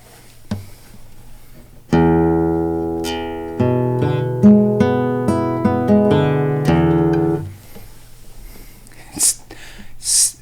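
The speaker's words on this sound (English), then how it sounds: "I fell in love with the sound of the guitar because of this little nylon string" A small nylon-string guitar plays a short run of plucked notes and chords, close and warm, with ringing harmonics, then fades into quiet room noise and a few soft breaths.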